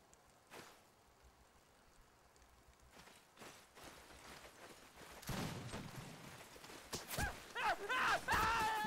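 Scattered sharp cracks of gunfire from a siege battle in the video game 16th Century pop in irregular bursts, growing louder and denser toward the end amid clattering background noise.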